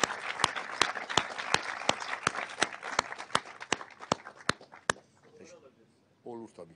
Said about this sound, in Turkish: Beni sabırla dinlediğiniz için sizi alkışlıyorum.